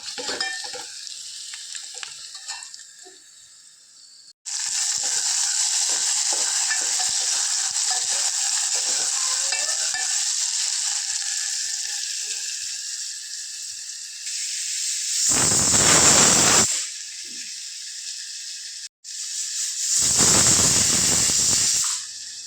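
Onion fries in hot oil with crackling mustard seeds, a loud, steady sizzle that fills the whole stretch and swells into stronger hissing bursts near the end, with no talking.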